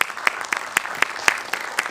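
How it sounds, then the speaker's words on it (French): Audience applause welcoming the president of the Aix-Marseille-Provence metropolis at a climate forum: sparse, distinct handclaps in a loose, fairly even rhythm, moderately loud and close, with a soft room wash between them. "vous pouvez l'accueillir par des applaudissements"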